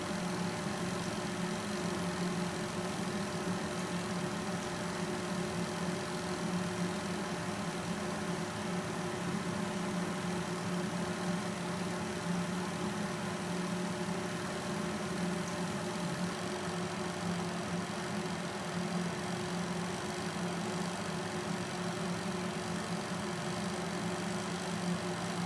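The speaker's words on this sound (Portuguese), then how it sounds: "Vou deixar vocês ouvirem um pouquinho o silêncio da centrífuga." A Suggar Giromax 15 kg clothes spin dryer runs steadily on its own, giving a continuous, even motor hum and whir with a faint high whine throughout.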